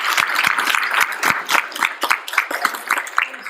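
An audience at a National Kidney Foundation awards event gives a short round of applause, scattered individual claps forming a steady patter for a few seconds, close and fairly loud.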